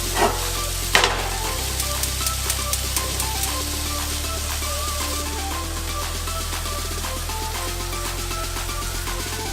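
A topping sautés in a very hot cast iron pan, giving a steady, continuous sizzle that sits under louder background music with sustained tones throughout.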